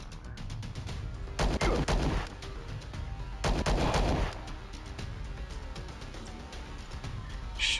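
Bursts of full-auto gunfire ring out in the space strategy game Star Traders Frontiers, two loud rapid volleys standing out over a quieter background of combat effects and ambience.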